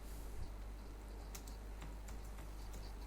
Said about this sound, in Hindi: कीबोर्ड से मैंने प्रेस किया जी, कंट्रोल सी, इंटर किया मैंने।